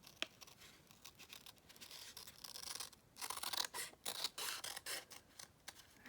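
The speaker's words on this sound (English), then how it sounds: "We're going to cut this out now that it's dry." Scissors cutting a printed flashcard out of cardstock, close quiet snips and crisp scraping strokes coming in a rapid run in the second half after a few slower cuts, no talk.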